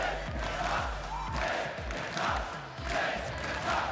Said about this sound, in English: Dignitas has got the crowd behind them here.